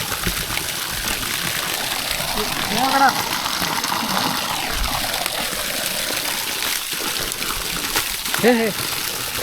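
Fresh water gushing from a stream near a waterfall, a steady loud rushing wash with no break, while people talk briefly over it.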